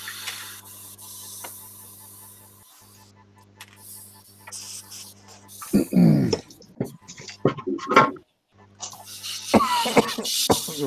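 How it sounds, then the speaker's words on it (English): A man with a cold coughs several times in rough bursts midway, alongside throat clearing and gagging, after a quiet stretch with a faint background hum; some splashing water follows. "I'm coughing because I got a cold"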